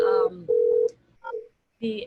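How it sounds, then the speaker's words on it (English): Phone ringing during a virtual meeting, a steady electronic tone sounding in two spaced bursts, fairly loud and clear, followed by a brief voice. "sorry, my phone's ringing."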